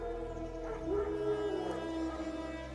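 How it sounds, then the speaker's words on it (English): Wild dogs howling in the video game The Witcher 3, one drawn-out wavering howl rising and falling over a low ambient drone, faint and distant, with no speech. "No. Wild dogs."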